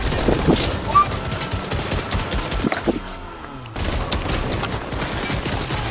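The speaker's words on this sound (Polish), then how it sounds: "Strzelają nas." Enemy gunfire crackles in a Fortnite match, repeated rapid bursts of shots at moderate distance, with a brief lull near the middle before the firing resumes.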